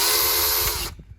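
Kobalt 40V cordless pole saw running for a brief burst, a close, high whirring motor whine under load that cuts off abruptly, followed by light handling clatter, no talking.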